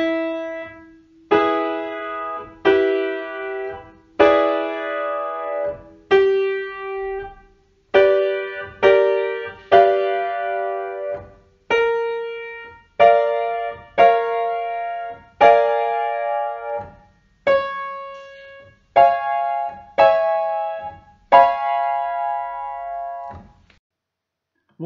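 Chords built from the octatonic scale played one after another on a keyboard instrument, about sixteen struck chords in a slow steady rhythm, each ringing and decaying, close and clear with no talking.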